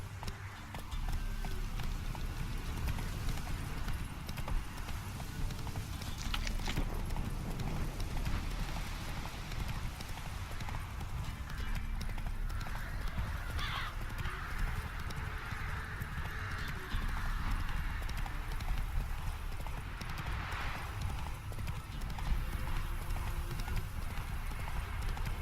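The horse Roach gallops in The Witcher 3 with steady, rhythmic clip-clop hoofbeats, loud and continuous over ambient game sound, with a brief whinny partway through.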